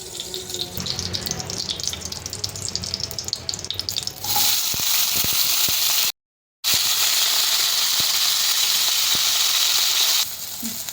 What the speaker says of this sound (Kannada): ಈ ಹಸಿಮೆಣಸನ್ನ ಹುರಿಬೇಕು ಅಂತ ಹೇಳಿ ಇದಕ್ಕೆ ಒಂದು ಸ್ವಲ್ಪ ಸ್ಪೂನ್ ಅಷ್ಟು ಎಣ್ಣೆ ಹಾಕಿದ್ದೀನಿ